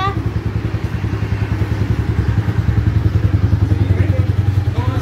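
A newly delivered Dinamo Renegada 250cc motorcycle runs nearby with a steady, throbbing low engine putter and light mechanical clatter, with voices in the background.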